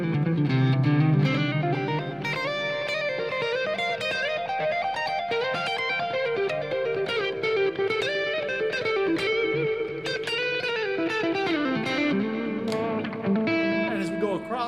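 Loud, sustained electric guitar lead lines through a distortion pedal turned up hot, with effects and reverb, plucked hard and playing continuously with no voice over it.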